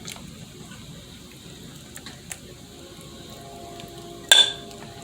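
Hot chicken tortellini soup is ladled from a pot into a bowl with a soft, steady liquid wash. A single sharp clink of ladle against dish comes near the end.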